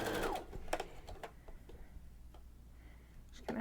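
A sewing machine with a binding foot stitching thick twill tape, heard as quiet, close, rapid ticking bursts separated by brief pauses.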